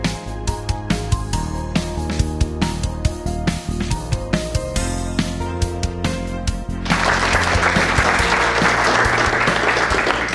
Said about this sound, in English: Wow, what a great round of applause.